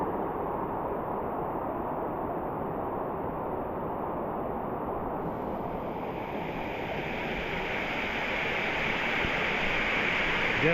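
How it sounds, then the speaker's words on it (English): The Bridal Veil waterfall in the Pacific Northwest roars at its base with a dense, continuous broadband rush of falling water, loud and close, building slightly toward the end, with no voices. "If you've ever felt a waterfall this big, you know it really packs a punch when you get to the bottom."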